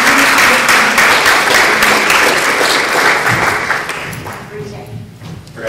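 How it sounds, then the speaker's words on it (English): An audience at a minority health summit breaks into sustained applause that stays loud and dense for several seconds and then fades, with a voice speaking over it. "Give a round of applause,"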